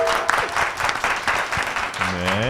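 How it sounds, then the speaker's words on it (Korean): Applause from a studio audience opens a current-affairs talk show, a burst of dense clapping that fills the room and mixes with a voice, ending in a rising tonal musical sting. "힘찬 박수와 함께 시작하겠습니다"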